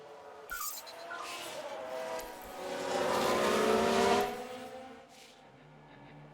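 F1 Manager 2022 race cars run on the Mexico track during a chaotic crash lap, engine whine swelling as a car passes, then fading away.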